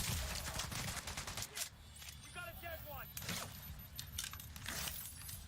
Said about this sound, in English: Press him, shoot him, miss. Shoot more propane tanks.